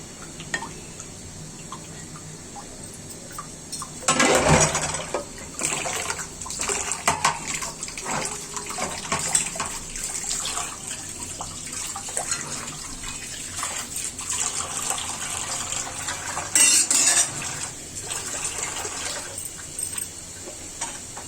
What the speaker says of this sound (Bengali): মরিচের চামচটা এখানে আমি ডালে ধুয়ে নিচ্ছি